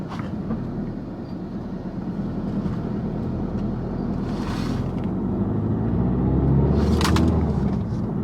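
A Skoda Octavia vRS drives along with no third gear, giving a steady low rumbling engine and road drone from inside that slowly builds, with brief swells of louder noise and no talking.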